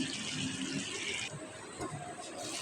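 Water pours steadily into a pan of potato, Malabar spinach and dried fish curry with a hissing splash, the flow changing partway through before continuing.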